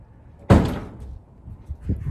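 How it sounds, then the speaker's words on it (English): A door slams shut in the wind near Horseshoe Bend in Glen Canyon, Arizona: one sudden, loud, close thud that decays quickly, followed by faint scattered sounds. "That door just slammed."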